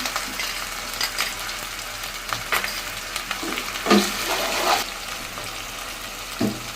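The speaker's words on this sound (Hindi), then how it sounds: "अब मैं डाल हूँ अदरक लहसन का पेस्ट इसको हम अच्छे से मिक्स कर लेंगे और थोड़ा फ्राई करेंगे दो मिनट के लिए" Onion, ginger-garlic paste and tomatoes fry in oil in a wok, giving a continuous close sizzle with irregular scrapes and stirring knocks layered on top.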